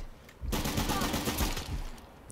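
Sustained gunfire in the video game Uncharted: The Lost Legacy, a dense loud burst of rapid shots that begins abruptly after a brief quieter moment and continues without pause.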